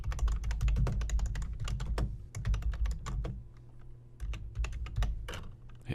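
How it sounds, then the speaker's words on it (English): Quick, irregular keystrokes clatter on a computer keyboard nearby, a dense run of soft taps with brief pauses and no voices. "just double-click and type something new"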